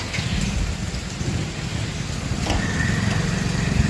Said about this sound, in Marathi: बाहेर पावसाची अशी रिमझिम चालू आहे